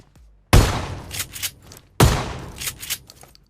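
Two shotgun blasts in the PUBG Mobile video game, each a sharp loud bang about a second and a half apart, followed by short pump-action clacks and echoing tails.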